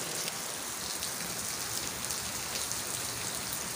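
Steady downpour of heavy rain drumming on surfaces, dense and unbroken throughout, with no voices.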